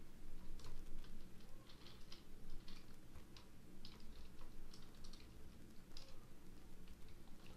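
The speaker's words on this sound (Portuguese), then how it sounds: "Então eu vou digitar aqui: informe seu e-mail." Light, irregular clicking of a computer keyboard as someone types, close and fairly soft over a steady low hum, with no talking.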